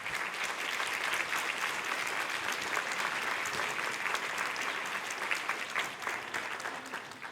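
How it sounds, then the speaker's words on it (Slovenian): Sustained applause from a concert audience at a charity concert for animal welfare, dense and steady clapping filling the whole stretch without talk. "En aplavz."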